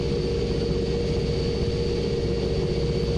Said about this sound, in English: Love the sound of those engines spooling up. Like I said before, it sounds like a nice jet turbine.